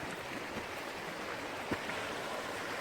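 A meandering little brook winding through alpine meadows gives a soft, steady wash of flowing water, faint and continuous with no talk.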